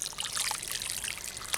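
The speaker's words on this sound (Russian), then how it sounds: "поливаем водичкой" Warm water trickles and pours onto seedlings in a soil tray, a steady close stream of splashing with a brief brighter spatter near the end.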